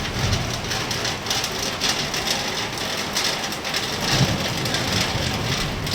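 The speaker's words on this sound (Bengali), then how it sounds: "দেখেন কি হারে বৃষ্টি।" Heavy rain pours steadily and loudly as a dense, continuous hiss of drops on surfaces, unbroken for the whole stretch with no voices.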